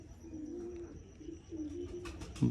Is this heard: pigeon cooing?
yes